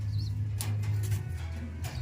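Racing pigeons coo softly in their loft, a low, steady murmur that continues throughout with no voices.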